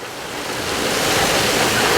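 Water splashes and rushes in a splash area at Busch Gardens Tampa Bay theme park, a loud, continuous roar of spray that swells slightly and holds steady.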